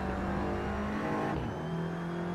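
A race car engine roars and revs steadily in the Assetto Corsa racing game, pitch shifting as it accelerates out of a braking zone, loud and close with no voices.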